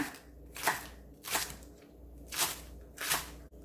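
Knife slicing green Cheongyang chili and red chili peppers on a cutting board for a braised hairtail dish, four distinct crisp chops spaced evenly, close and moderately quiet with no talking.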